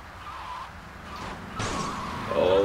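Car driving through city streets in GTA Vice City, engine hum rising and falling over a busy game backdrop, ending in a louder tonal surge, with no one speaking.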